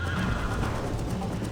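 A horse in the video game Red Dead Redemption whinnies loudly and close, with steady clip-clop hoofbeats running underneath throughout the short moment and no talking.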